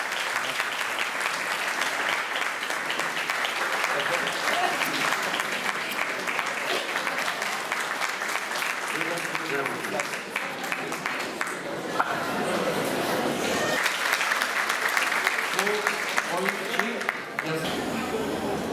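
Sustained audience applause greeting Levent Ülgen as he comes on stage, a dense steady clapping that runs throughout, dipping briefly midway, with a host speaking over it.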